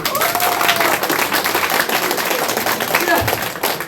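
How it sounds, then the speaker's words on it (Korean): Applause from the room at a Hanam press conference for a questioner, steady clapping spread across the crowd with a voice carrying faintly over it throughout. "질문해 주신 분께 박수 한번 보내드립니다"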